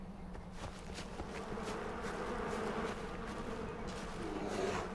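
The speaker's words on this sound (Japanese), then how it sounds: "蜂まで寄ってこない？ これ大丈夫？" Bees swarm and buzz steadily around the player in the prehistoric wilderness of Far Cry Primal, a continuous droning hum over low outdoor ambience with no talk.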